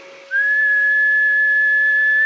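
A person whistles a single steady, loud, pure note for about two seconds while testing a 1,000-watt HF welder booster built on a modified electric welder.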